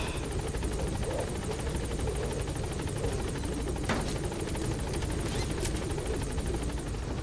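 The Pequod helicopter from Metal Gear Solid V: The Phantom Pain hovering at the landing zone, a loud continuous rotor drone and whine that stays steady throughout, with no talk over it.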